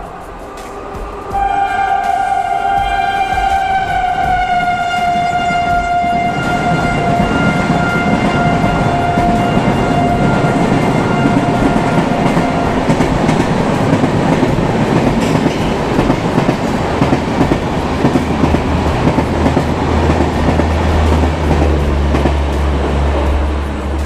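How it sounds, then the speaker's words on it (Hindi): Gomti Nagar Express train at a railway station, heard as a loud, steady rumble of wagons with clacking and a long high-pitched whine or horn-like tone that fades early on, continuing without speech. "देखिए ये गोमती नगर एक्सप्रेस है जो यहाँ से ही बन के चलती है।"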